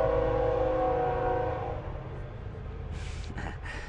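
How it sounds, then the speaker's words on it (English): A train passes in the background with a low, rumbling roll that slowly fades. Near the end a few brief, higher horn-like bursts sound faintly in the distance. "So we're gonna have the train in the background of the rest of this video."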